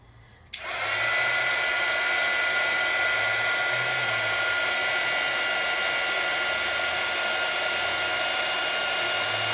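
A heat tool melts embossing powder over pigment ink on a stamped card. It switches on abruptly with a loud, steady blowing whir that holds at an even level to the end.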